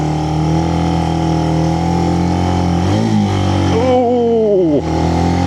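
A Benelli BN125 motorcycle labours uphill on the steep Hardknott Pass, its engine droning loud and strained, then dipping and whining as the revs waver near the end.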